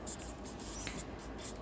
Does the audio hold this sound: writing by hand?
yes